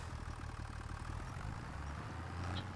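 An underpowered tractor in Farming Simulator 25 idles in a sunflower field, its engine a steady low throb with a fast, even pulsing chug, close and continuous for the whole moment.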